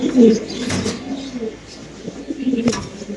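Pigeons at a pigeon seller's, close soft repeated cooing in low throaty bursts, with faint background voices.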